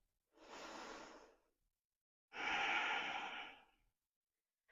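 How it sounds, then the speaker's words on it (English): Two long, deep breaths during yoga practice, an audible inhale followed by a fuller exhale, close and soft in an otherwise quiet room. "Take a breath here."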